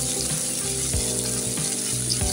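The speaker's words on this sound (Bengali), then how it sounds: "শিমটাকে আমি একটু ভেজে নেব" Flat beans fry in a pan with a loud, close, continuous sizzle, broken by several sharp clicks or knocks from stirring.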